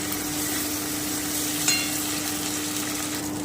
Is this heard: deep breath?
no